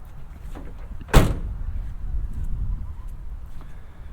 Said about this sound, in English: let's do a quick tailgate check. Make sure this opens smoothly with the U-Haul trailer.